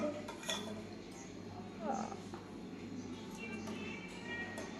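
Twelve quail eggs go into a cooking pot, making light clinks and knocks against the metal with faint kitchen clatter. Speech is heard at times.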